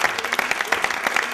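Audience clapping at a live show, a short burst of brisk, fairly close applause from a small crowd, with some voice mixed in.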